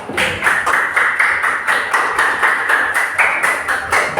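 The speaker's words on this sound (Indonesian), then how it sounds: "Tepuk tangan untuk kelompok 4." A classroom group gives a round of applause for a presenting student team, a steady run of sharp claps repeating through the clip, moderately loud with no speech.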